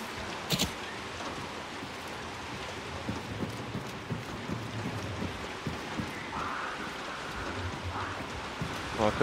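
Rain falls steadily in the online shooter Hunt: Showdown, a soft continuous patter with scattered drips and a few faint footsteps or rustles underneath.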